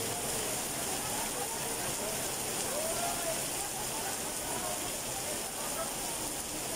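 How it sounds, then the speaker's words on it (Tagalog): Rain splashes steadily onto the street surfaces and sidewalk of Sta. Cruz, Manila, a constant close hiss of spattering drops that runs through the whole stretch with a voice talking faintly beneath it. "grabe yung silamsik ng ulan"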